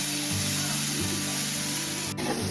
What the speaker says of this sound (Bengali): যে মশলাটা আমি আদা লঙ্কা আর জিরাটা বেটে রেখেছি সেই মশলাটাকে ভালো করে কষাতে হবে।